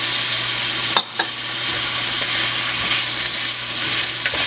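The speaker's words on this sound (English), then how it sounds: "I'm going to let all of this cook down for a few minutes before I put my codfish in there" Onions, peppers, tomatoes and scallions sizzling and frying in a pan for a Bajan codfish casserole, a steady close crackle with a brief stir or clatter near the start.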